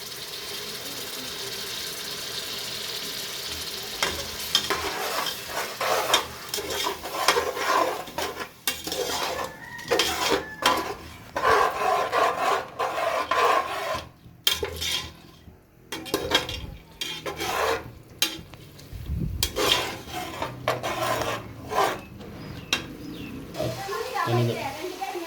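Curd and masala being stirred in a pot for chicken biryani, with a spoon scraping and clinking against the metal in steady bursts, near and moderately loud, over a low background hum.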